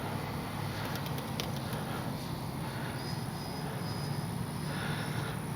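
Freewing Vulcan 70mm EDF RC jet flying a touch and go with gear and landing flaps down, a steady broadband whoosh of the ducted fan holding at an even level throughout.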